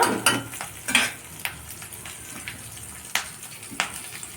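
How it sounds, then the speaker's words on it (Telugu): Dry red chillies and green chillies fry in hot oil for a coconut chutney, giving a low sizzle as a spoon stirs and scrapes the pan in irregular taps, close and fairly quiet, with no speech. "ఎండుమిరపకాయలు పచ్చిమిర్చి కూడా వేసేసేయండి ఒకసారి కలపాలి"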